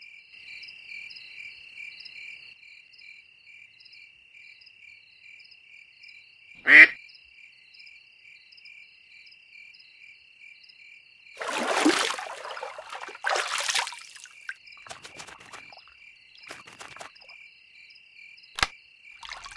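A few short quacking calls in a burst, heard over a steady chorus of crickets, with a sharp click just before.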